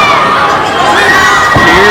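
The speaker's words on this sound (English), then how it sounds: "Hear that crowd" Loud wrestling crowd at a convention heavyweight championship match roars and cheers continuously, a dense wall of shouting voices filling the space right after a big move.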